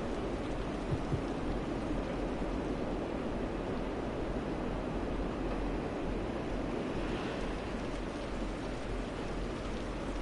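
Steady rain from the Cities: Skylines video game pours down without a break, a dense even hiss at moderate distance with no voices over it.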